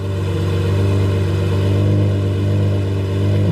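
Lamborghini Murcielago LP640 lowering its nose with the front axle lifter, heard as a loud, constant low engine rumble that swells slightly midway and then settles, no voices.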